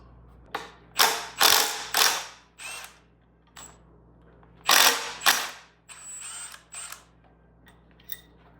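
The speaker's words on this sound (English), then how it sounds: "we'll take out this fuel rail, bolt and bolt" A ratchet loosens fuel rail bolts on a 6.4L Powerstroke diesel engine, with several bursts of quick, close clicking separated by brief pauses and small metallic taps.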